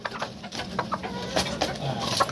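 A battle cock rooster clucks in a series of short, close calls, with other backyard fowl faintly around it and a little background chatter.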